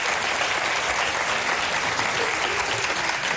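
TV studio audience on a live morning talk show breaks into dense, bright applause, a sustained burst of many hands clapping fairly close that fills the short stretch on its own.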